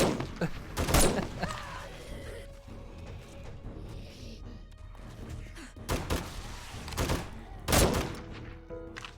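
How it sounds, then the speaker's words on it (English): Gunshots in 7 Days to Die during a base defense by a back wall, heard as a few sharp, loud isolated blasts spaced several seconds apart, with quieter ambient game noise between them. "I'm going to shoot you."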